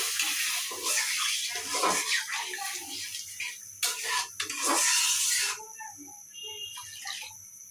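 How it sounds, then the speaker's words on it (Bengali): Water pours into a pan for chicken kofta gravy, a splashing, rushing stream in uneven bursts lasting several seconds before stopping, with light clinks of a kitchen pot afterward. "ঝোলের জন্য পানি দিয়ে দিলাম।"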